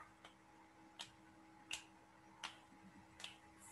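Five faint, crisp finger snaps at roughly regular intervals over a quiet room hiss, close but soft, with no voices.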